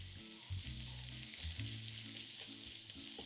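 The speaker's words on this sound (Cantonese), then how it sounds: "我哋爆緊洋葱嗰個時候咧" One thinly sliced onion frying in hot oil gives a constant, close sizzle and crackle, with faint stirring touches and a steady low hum beneath.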